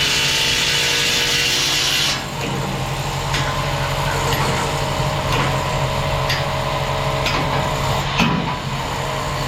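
A power drill grinds loudly and continuously into concrete for a bolt anchor, with the pitch shifting as it bites, punctuated by a few sharp knocks.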